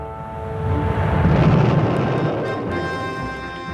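American cruise and Pershing missiles are destroyed in archive footage: a deep, loud rumbling blast swells over about a second and a half, then rolls off into a long fading roar.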